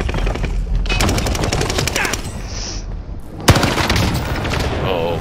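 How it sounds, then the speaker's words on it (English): Rapid bursts of M1916 gunfire in a video game, loud and close, with rattling volleys and a sharp boom partway through, mixed with game noise and excited voices. "isn't that M1916 a single fire?"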